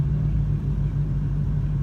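Constant deep engine and road rumble inside a car moving through highway traffic, even and close, with no voices.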